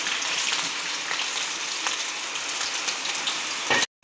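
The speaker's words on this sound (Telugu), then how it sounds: "ఆయిల్ వేడెక్కినాక ముందుగా పచ్చిమిర్చి ముక్కలు, ఉల్లిపాయ ముక్కలు వేసుకోవాలండి" Chopped green chillies and onions frying in hot oil make a dense, close hiss and crackle that holds steady, then cuts off abruptly.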